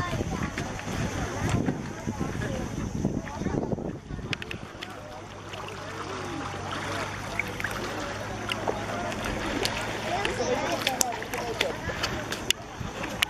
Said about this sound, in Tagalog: So, yun yung bangka namin.